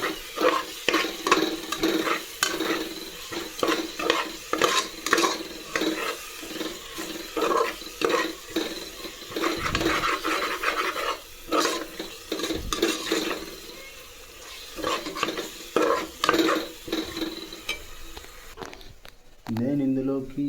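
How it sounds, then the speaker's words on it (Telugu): Spoon stirring turmeric into chicken biryani in a pressure cooker, with repeated scraping and clinking strokes against the metal pot, steady and fairly close, running under continuous talk. "ఇలా వేసిన తర్వాత మంచిగా తిప్పుకోవాలి"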